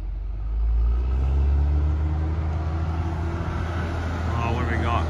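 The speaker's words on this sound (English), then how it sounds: "we got concrete coming around the corner" A concrete truck arriving at a concrete driveway job: a deep engine rumble swells and holds as it comes around the corner, with faint muffled voices in the background.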